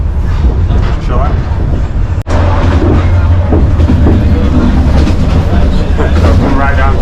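Sleeper train in Vietnam rolling along with a steady loud rumble and rattling carriage noise throughout, one brief sharp dropout midway, and faint voices under the din.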